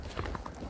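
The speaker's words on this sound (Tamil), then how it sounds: "சில டைம்ஸ் அது குதிரை வந்து நம்ம சொல் பேச்சு கேட்காம எங்கே எங்கேயோ ஓடி போயிடுதுங்க" Horse hooves clip-clop steadily during a pony ride on a hillside trail, the regular hoof strikes sounding close and moderately loud against outdoor background noise.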